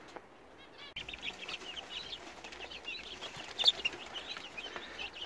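Silkie chickens on a smallholding cluck and chatter softly in a continuous low murmur, with a few sharper calls standing out, fairly faint and close.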